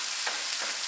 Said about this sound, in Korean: 자, 이렇게 해서 야채 넣어주고 한번 또 쉐끼쉐끼 해줄게요.